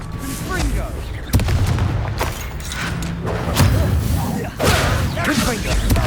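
Booming fire-curse blasts from the Hogwarts Legacy video game thud and crash repeatedly, with several sharp impacts spread across the stretch amid game noise and a voice casting spells.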